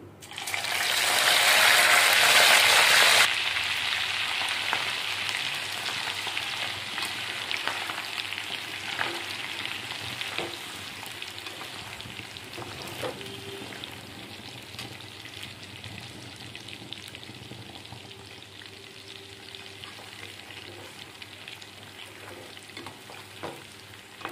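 Prawns dropped into hot oil for pickle burst into a loud, dense sizzle for the first few seconds, then settle into a steady, softer frying crackle with occasional stirring clinks throughout.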